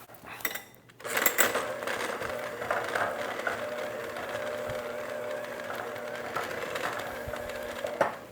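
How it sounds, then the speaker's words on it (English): Handheld electric mixer whirring steadily in a bowl of lemon zest mixture for a lemon-raspberry turnover filling, a close continuous motor hum with faint clinks against the bowl and no talking. "And then we're going to use our handheld mixer and just mix that up."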